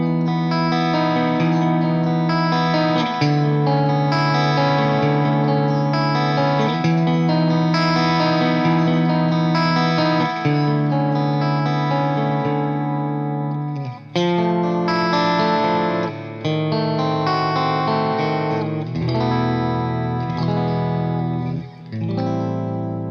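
Electric guitar played through the drive section of a Chandler GAV 19 T amp, sustained distorted chords ringing out loudly with a brief pause midway, no talking.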